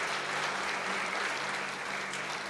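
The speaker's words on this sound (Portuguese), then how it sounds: "Você pode aplaudir o Senhor, irmãos?" A church congregation applauds during a worship service, a steady, even wash of many hands clapping at a moderate level, with no voices over it.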